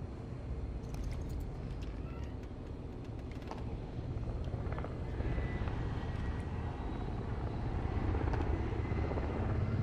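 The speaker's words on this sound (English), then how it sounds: "Stupid helicopters are really distracting." A helicopter flying in the video game Call of Duty Warzone gives a steady low rotor drone that lasts throughout and swells slightly toward the end, with no one speaking over it.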